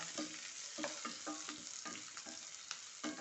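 Onions sauté in a pan for Palakkad-style potato masala curry, with a steady close sizzle broken by repeated rhythmic scrapes and clacks of stirring, roughly every half second.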